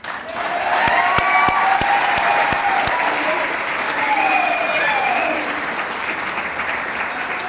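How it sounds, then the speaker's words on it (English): A gala crowd at a fire department's 150th anniversary claps for Lieutenant Sachs receiving an award. A few sharp close claps lead into full, steady applause with whoops and shouting voices over it, tapering slightly near the end. "join me in a round of applause for Lieutenant Sachs"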